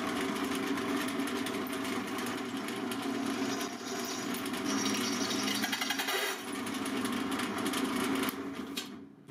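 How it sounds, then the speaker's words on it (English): A power drill whines steadily, grinding through a metal plate with brief changes in pitch and a cut-off at the end; no talking. "I just want to drill through these plates to get some good marks"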